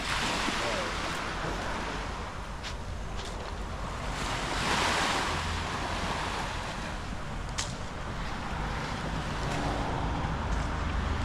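Surf rolls in continuously on Bang Po Beach, Koh Samui, a quiet beach on the island's north side, with steady washing waves and wind buffeting the microphone throughout.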